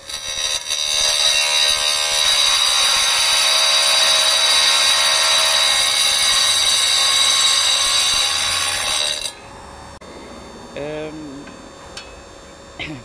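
A power tool runs loudly and steadily for about nine seconds while working a screw on a blade used on a mix of epidote and quartz rock, then cuts off, leaving quieter handling noises and a few brief squeaks.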